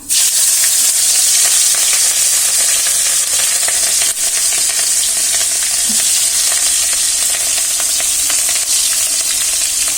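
Green chilies frying in oil in a pan for fried rice make a loud, dense, continuous hiss and crackle that holds steady from start to finish, with one faint knock midway.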